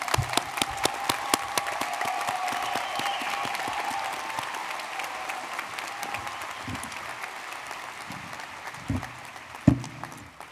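A large crowd at a medical college commencement ceremony in Milwaukee gives sustained applause for graduates, a dense wash of clapping that gradually thins. A few louder individual claps stand out near the end.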